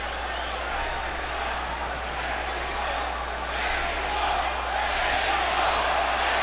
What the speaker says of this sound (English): the crowd chanting, Mexico, Mexico, Mexico